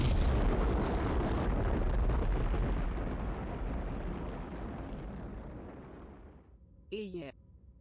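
Burst of LBX autocannon shotgun fire in a MechWarrior game, a dense roaring blast that sustains and slowly fades over several seconds, ending in a brief warbling electronic tone.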